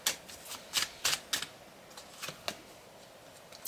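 Tarot cards being shuffled and drawn during a reading: a run of crisp, papery riffles and flicks in separate bursts, close and fairly quiet, with no talking.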